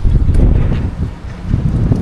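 Strong wind roars and buffets the microphone in loud, gusty low rumbles, easing briefly midway before surging again.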